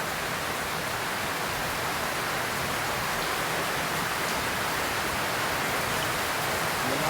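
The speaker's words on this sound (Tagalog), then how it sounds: "Medyo malakas na yung ulan dito sa amin." Heavy typhoon rain pours down in a constant, dense roar of falling water, steady and fairly loud throughout with no breaks.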